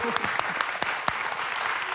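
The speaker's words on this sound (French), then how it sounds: "Applaudi par le Mexique aussi" A studio audience applauds on a francophone quiz show, with close, continuous clapping and a few sharper individual claps standing out over a brief stretch while voices murmur underneath.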